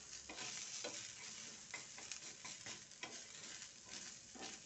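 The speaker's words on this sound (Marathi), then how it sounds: "कांदा मला भाजून झालेला आहे, तर गॅस बंद करते." Onion roasting in a pan on a gas stove, a steady quiet sizzle with the scraping of a spoon stirring at irregular moments, no talk.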